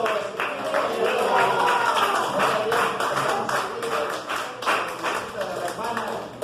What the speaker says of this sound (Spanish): vamos a darle un aplauso y vamos a darle la bienvenida a todos a una sola voz